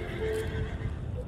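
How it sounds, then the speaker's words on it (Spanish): A horse neighs in the video game Lueur and the Dim Settlers, a brief whinny over a dense, steady game soundscape with faint hoof-like clopping. "Hay caballos."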